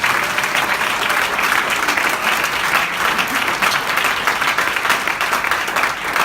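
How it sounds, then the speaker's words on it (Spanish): A church congregation applauds at a Spanish-language sermon, a loud, dense and continuous wash of many hands clapping that holds steady from start to finish. "Otro aplauso para el Señor Jesús"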